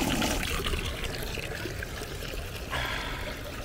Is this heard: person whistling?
no